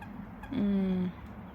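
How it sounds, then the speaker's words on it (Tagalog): One brief, loud bird call rings out close by, a strained honking cry lasting about half a second against quiet outdoor background. "Ay, ang cute ng mga ibon."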